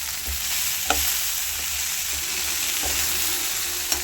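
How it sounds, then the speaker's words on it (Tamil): Broad beans, drumsticks, carrot and potato sautéing in a pan for kara kulambu, a steady close sizzle with a few sharp clicks of a spoon stirring against the pan, no voices. "காய்கறி நல்லா வதங்கிடுச்சு"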